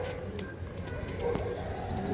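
Pigeons at a sale in Hooghly give low, burbling coos close at hand, layered over a busy background of rustling and faint chirping for a couple of seconds.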